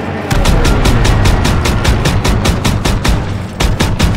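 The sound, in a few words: gunfire in the video game Call of Duty WWII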